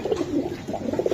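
Giribaz pigeons, a young working pair, coo in soft, rolling low pulses that come close together and stay fairly quiet throughout.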